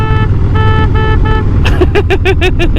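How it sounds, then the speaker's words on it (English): A Harley-Davidson motorcycle horn beeps in four quick short toots over an idling engine, followed by a run of rapid popping exhaust bursts. "Let's hear the horn."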